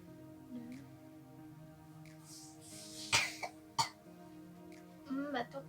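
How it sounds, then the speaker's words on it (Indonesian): A patient coughs during a deep breathing and effective coughing exercise, several short, sharp coughs and throat-clearing bursts spaced out over a quiet room with soft background tones. "Batuk ya."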